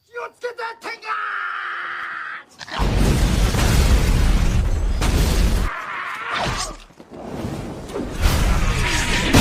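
A deep cannon boom bursts out after a few sharp hits, followed by a roaring, crackling blast with debris and whooshing that rumbles on.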